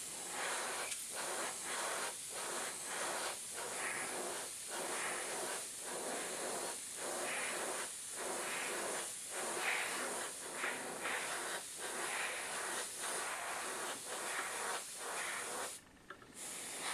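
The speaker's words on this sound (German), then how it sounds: "sachte Schicht für Schicht sprühen." An airbrush sprays thin layers of paint onto plastic model barrels in repeated short hissing bursts, roughly one per second, soft and close, with brief pauses between passes and no speech.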